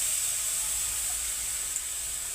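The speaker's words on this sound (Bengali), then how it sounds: "তেঁতুল জলটা দেওয়া হয়ে যাচ্ছে।" Tamarind water poured into simmering live crab curry, heard as a steady close hiss and bubbling sizzle from the pan throughout, with no talk.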